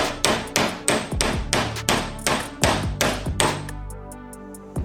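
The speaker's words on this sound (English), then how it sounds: "I'm just gonna pound it off." A hammer pounds a part off a 2012 Polaris Sportsman 400 HO four-wheeler with a flathead screwdriver wedged in, a steady series of sharp, ringing blows, about eight strikes, loud and close, with metallic ring trailing after each hit.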